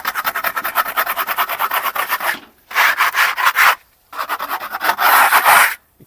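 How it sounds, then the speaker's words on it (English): Trowel scraping the edges and high trowel lines of a silicone render base coat that is hard but still slightly soft, in three bursts of close, rhythmic rasping strokes separated by short pauses. "scrape around all the edges, any high trowel marks, trowel lines, cleaning it up a bit as we go."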